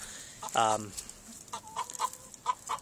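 A Rhode Island Red hen gives a loud squawk, followed by several soft, short clucks close by in a quiet backyard.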